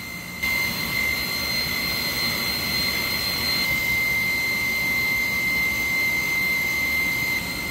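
A pump runs steadily in a temperature control loop process training unit: a constant, fairly loud mechanical whir with a high whine, continuing unchanged throughout without speech.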